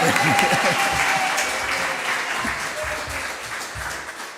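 A church congregation applauds continuously, a thick wash of clapping with voices and cheering mixed in, holding steady and easing slightly toward the end.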